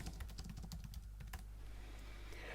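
Fingers tap out a folder name on a computer keyboard while organizing Apple Notes: a short, quick flurry of soft, close key clicks that stops after about a second and a half, leaving quiet.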